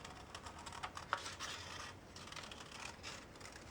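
Scissors cut through folded white paper at close range, a quiet, continuous rasping snip with soft rustling and no talk.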